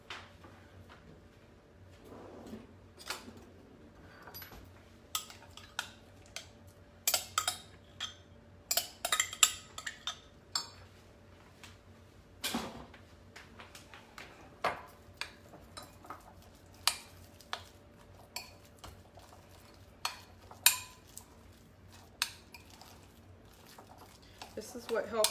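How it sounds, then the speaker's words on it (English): A spoon clinks and scrapes against a bowl as two lasagna ingredients are stirred together, the sharp taps irregular and fairly close over a quiet background. "So we're going to mix these two together."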